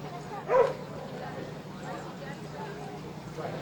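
A search dog gives a single short bark near the start during a scent box search, then faint background noise with a voice talking around it.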